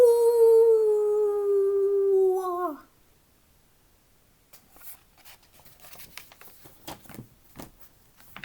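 A human voice imitates a long, wavering coyote howl that slides downward and breaks off, followed by faint scattered taps and rustles, during a children's story read aloud.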